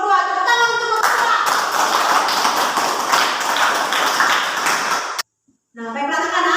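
Classroom students clap together for a group of classmates, brisk and dense for several seconds before stopping abruptly, with a teacher talking before and after.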